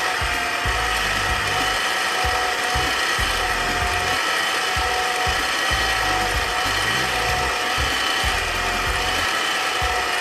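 A yellow noodle-making machine with a drying fan underneath runs steadily and loudly, its ratcheting, geared clatter repeating in a continuous mechanical rhythm with no voices.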